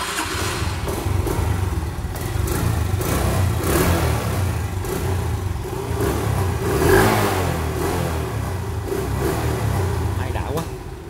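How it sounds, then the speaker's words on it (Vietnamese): Original engine of a Suzuki Viva motorcycle running and revving nearby, a steady loud mid-pitched drone swelling with throttle blips, with someone talking over it at times. "Máy nổ cảm giác được sướng sướng tay luôn nha anh."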